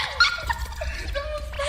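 A dog riding in a car with its head out of the window whimpers and yips in thin, wavering cries over low road rumble, mixed with talk.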